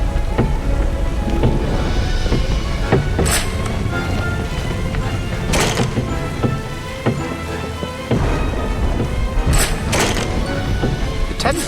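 Steady rain pours through a thunderstorm in the Doctor Who: The Eternity Clock video game, with several sharp thunder cracks breaking out over the constant downpour, loud and close.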